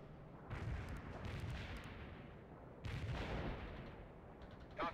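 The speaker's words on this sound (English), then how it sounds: "Artillery strike." Artillery fire in World in Conflict: two heavy, rumbling barrages of booming impacts, each swelling and rolling on for a couple of seconds before fading.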